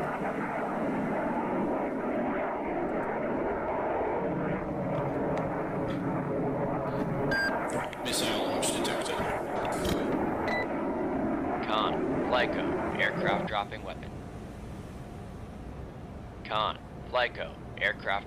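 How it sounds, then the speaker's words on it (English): Aircraft roar steadily overhead in the naval combat video game Cold Waters during a 2002 NATO campaign with the Nimitz carrier. The engine drone is broad and continuous, broken by scattered game beeps and alert tones near the end. "aircraft dropping weapon"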